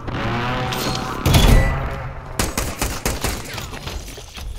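Video game gunfire in a rapid burst, loud and close, with a heavier blast partway through followed by a string of sharp shots, no talk over it.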